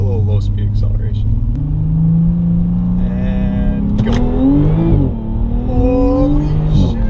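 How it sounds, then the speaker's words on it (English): A Ferrari sports car pulls away from low speed, its engine note climbing steadily through the gears in a loud, close rumble that rises in pitch, with brief shifts between pulls. "we're gonna do just a little low speed acceleration"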